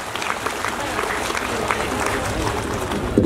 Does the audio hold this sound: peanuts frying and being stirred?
no